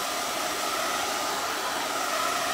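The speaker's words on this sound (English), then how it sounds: "Let me hit it with the blow dryer for just a few, and then we should be good to start outlining." A handheld blow dryer runs steadily to dry fresh paint on an Easter egg cart yard-art piece, giving a continuous, loud airy whoosh that holds even from start to finish with no talking.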